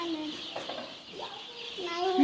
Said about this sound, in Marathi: छोटी छोटी कोंबडी आहे